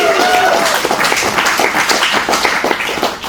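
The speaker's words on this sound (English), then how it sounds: "one more round of applause" An audience claps for writer and producer Amber Rose McNeill at a festival Q&A, dense, loud applause filling the room and lasting the whole stretch.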